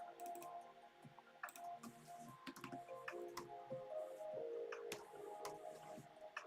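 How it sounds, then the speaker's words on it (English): Numbers are tapped out on a computer keyboard in an irregular run of close, light clicks and key presses, each quick and crisp, with a faint hum behind and no talk. "let me type out the numbers so you guys see it"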